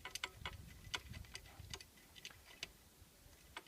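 Soft metallic ticks and light clicks come from a bolt being threaded in near the foot peg and gear selector of a BMW F650GS motorcycle during a clutch change, faint and close with irregular spacing.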